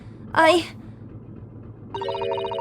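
In the video game The Great Ace Attorney, a bell sounds as its cord is pulled, a bright, sustained ringing near the end that follows a short burst of a voice.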